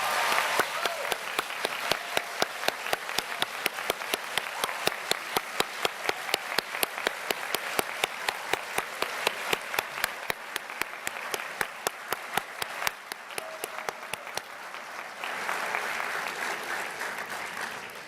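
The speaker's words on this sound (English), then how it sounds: "I now invite all of you to take a moment to thank, with your applause, faculty, friends, and family members who have supported you" Graduates and guests at a college commencement applaud faculty, friends and family: sustained, dense clapping from a large crowd, steady for most of the stretch and thinning slightly toward the end.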